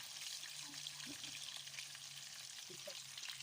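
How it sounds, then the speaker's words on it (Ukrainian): Steady, faint sizzling of meat patties frying in a pan, a continuous hiss with a low hum underneath and no talking. "Так, ми їх перевертаємо і чекаємо, поки вони смажуться"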